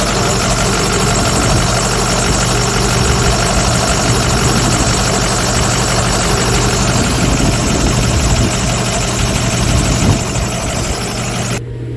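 A Ford F350 diesel truck with injector trouble idles close up once warmed, its engine giving a loud, steady clattering rumble that runs unbroken and unaccompanied by talk before dropping off slightly at the very end.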